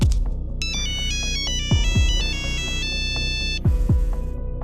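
A phone ringtone plays in a Hindi cartoon story, a bright repeating melodic tune over a sustained musical background with low swooping tones, loud and continuous throughout.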